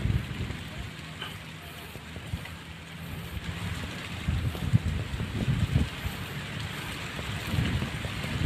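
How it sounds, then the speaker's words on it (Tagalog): Heavy rain pours on a rice field during planting, a steady dense hiss of drops with gusty swells, while people talk intermittently over it. "Grabe yung ano, ulan."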